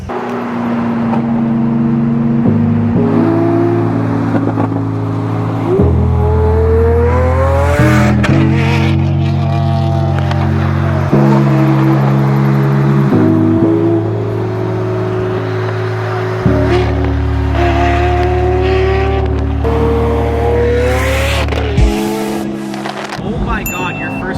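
An 850 hp Ferrari F8 Tributo revs and drives by on the road, its engine climbing and dropping through loud gear-like pitch steps, close and dominant throughout, with occasional voices mixed in.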